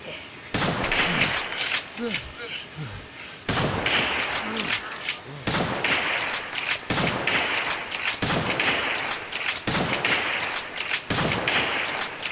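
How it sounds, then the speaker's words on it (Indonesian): Continuous gunfire in the Gorebox video game, an execution scene: rapid repeated shots and thuds in long bursts with brief gaps, loud and close throughout. "Ditambahin peluru non-stop sampai pelurnya habis."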